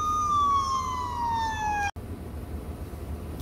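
A police siren wails downward in pitch over steady road noise, then cuts off abruptly, leaving only the engine and road hum.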